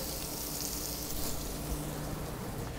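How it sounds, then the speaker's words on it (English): A salmon fillet seasoned with black pepper sears in a hot pan, a steady, even sizzle that holds unbroken at low volume without any talking. "We're going to give it a nice good sear on one side."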